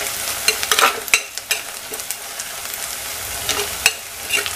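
Onions and shallots sauté in a clay pot while being stirred, a continuous sizzle broken by repeated close scrapes and knocks of the spoon against the pot.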